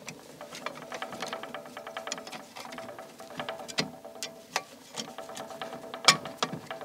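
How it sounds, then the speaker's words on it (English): An Allen key screwing down the recoil plug on an Ensio Firearms KAR-21 multicalibre rifle, producing close, quiet metallic ticks and clicks in an irregular ratcheting rhythm, with one sharper click near the end. "So we take the recoil plug and put it on place. Take the Allen key. Screw it down."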